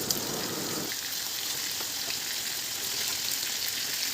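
Chicken marinated in chicken masala and salt frying in hot oil, giving a dense, even sizzle that stays close and steady throughout with no voices.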